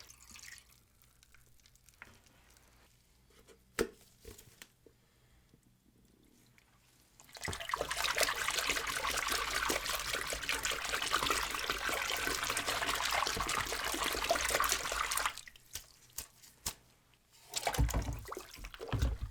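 Rusted Super Nintendo and Sega Genesis console parts are set in to soak while water runs in a steady, fairly loud trickling stream for several seconds, bracketed by quieter handling clatter.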